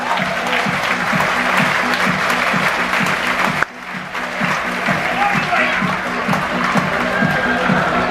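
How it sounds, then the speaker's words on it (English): Audience at a cruise ship hypnotist show applauds loudly and continuously, a dense wash of clapping with a brief dip midway, under a steady low hum. "Give them a round of applause!"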